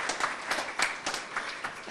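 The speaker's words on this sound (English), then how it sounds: "Yeah, let's clap it up." An audience at a teaching award gala applauding, with scattered hand claps building into uneven bursts and a fairly light, moderately distant patter that lasts a couple of seconds.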